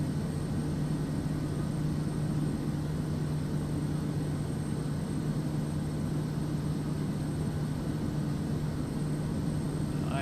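Steady, unbroken drone of a Kodiak aircraft engine running at full RPM with a rich mixture in MSFS2024, a constant loud hum with a strong low tone and broadband hiss, no voices.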